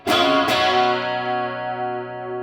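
An electric guitar through a NuX Mighty Plug headphone amp with room reverb: two quick strums of a chord, then a long, smooth ringing decay that fades gradually, played alone.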